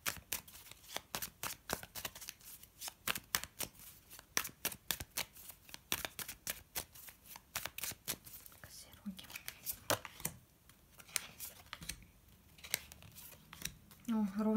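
Tarot cards being shuffled up close, a long run of rapid crisp riffling flicks in an uneven rhythm, with a voice entering briefly at the end.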